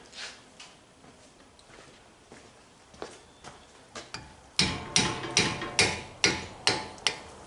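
Metal hammer strikes ring out on a tight brake caliper bolt of a 2008 Kia Sportage 4x4 during a front brake job, light taps at first, then a run of loud, evenly spaced blows.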